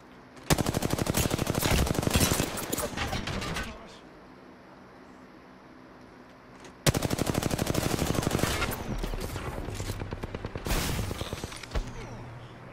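Video game gunfire in a long rapid automatic burst, a pause, then another sustained stream of rapid shots, loud and close, ending in a few scattered single shots.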